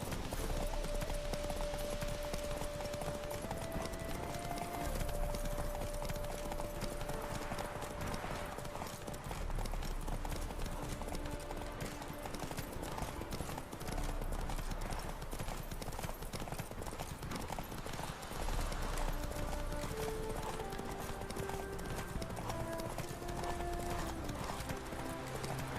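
Horse hooves clip-clop continuously while riding in The Witcher 3, an even galloping rhythm throughout with game music tones and ambient sound underneath.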